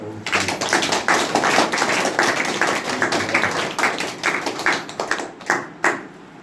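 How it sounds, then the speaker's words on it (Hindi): A church congregation claps in a steady, dense burst during a sermon, then the claps thin out into a few final separate claps. "एक अच्छा ताली बजाए।"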